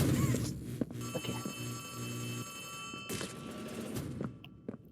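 In the video game Poppy Playtime, a telephone bell rings in short bursts with bright sustained tones, while footsteps and thuds from the game are heard around it.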